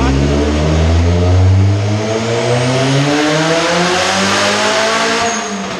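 A turbocharged Honda CR-V engine roars at high revs on a dyno, very loud and close, its pitch sweeping and climbing as the throttle is held wide open.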